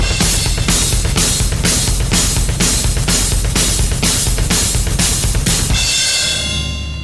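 Metal drum kit pattern with the snare landing on every other hi-hat stroke and sixteenth notes driving underneath, a steady fast pulse of loud close hits that ends on a ringing cymbal crash.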